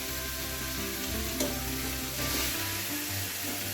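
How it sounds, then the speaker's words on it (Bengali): Fried potato, pointed gourd and prawns being stir-fried in spice paste in a home kitchen, a steady close sizzle with scraping stirs throughout, no talking. "ভেজে রাখা আলু, পটল আর চিংড়ি মাছটা দিয়ে মশলার সাথে একটু ভালো করে কষিয়ে নেব"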